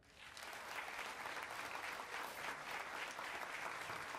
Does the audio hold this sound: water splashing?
no